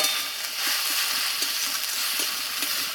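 Water lily flowers fry in a pan with turmeric and salt, giving a steady, dense sizzle with soft scraping stirs recurring every second or so, close and fairly loud with no talk.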